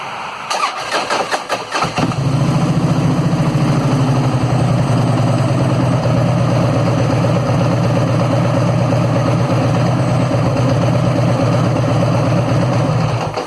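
A few sharp clicks, then a Harley-Davidson motorcycle engine with a modified 5-spring compensator cranks and fires up loudly, settling into a steady, throbbing idle that continues close by.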